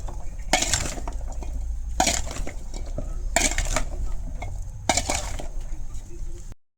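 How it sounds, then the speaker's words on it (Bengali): Mixed pickle being mashed with a metal spatula in a pot, four bursts of scraping, clinking strokes spaced about every second and a half, close and fairly loud over a low background hum. "এটা খুব ভালো করে ম্যাশ করবো"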